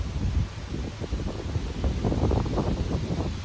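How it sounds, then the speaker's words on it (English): Strong wind buffets the microphone in continuous low rumbling gusts, loud and close, with no one speaking. "It is crazy windy out here."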